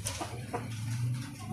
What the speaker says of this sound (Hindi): ये माशाल्लाह बहुत प्यारा मुर्गा है।